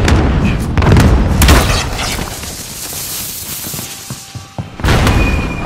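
A missile launch booms in Call of Duty: Modern Warfare, a loud deep blast that rolls out and rumbles, then a second heavy boom at the end.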